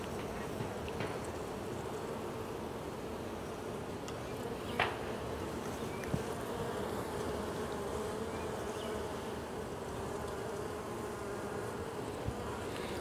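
Honey bees buzz steadily during an April hive inspection while a frame of capped worker brood and drone brood is handled; a dense, continuous hum fills the whole stretch, close and even, with a few brief clicks and no talk.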